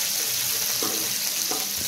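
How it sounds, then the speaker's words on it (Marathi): Green chillies, ginger and garlic sizzle steadily in hot oil in a pan, a constant close hiss with a couple of faint stirring clinks and no talk. "अद्रक लसूण मिरची पूर्ण फ्राय झालेली आहे"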